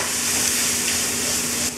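Pasta going into a pot of boiling water and being stirred, a steady loud hissing bubble up close, unbroken for nearly two seconds before easing slightly at the end.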